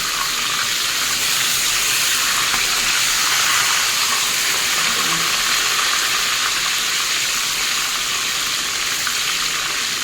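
Pieces of chicken fry in a pan and give off a steady, even sizzle and hiss that runs unbroken from start to finish. No voices are heard.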